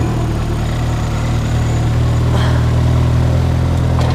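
Ford Fiesta engine idling, a steady low rumble that stays constant and close for the whole stretch, loud and uninterrupted, with a couple of faint clicks near the end.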